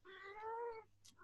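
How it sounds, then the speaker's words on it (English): A house cat meows once, a drawn-out, rising and falling meow, then gives a short chirp. The sound is close and fairly quiet in an indoor room. "my cat to stop meowing"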